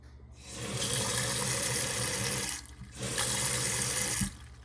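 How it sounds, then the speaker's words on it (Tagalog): Water poured steadily from a tap into a pot of marinade for boiling, a close, loud splashing rush that pauses briefly in the middle, then resumes and ends with a small clunk. "konting tubig din po para kumulo siya at saka mas lumambot"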